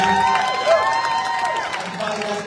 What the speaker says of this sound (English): Give a round of applause to everyone who's here.